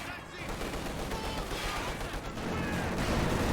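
Dense, continuous light-machine-gun fire and battlefield gunfire from a World War II strategy game skirmish with Panzer IV tanks and assault guns, a steady loud crackle of overlapping bursts throughout.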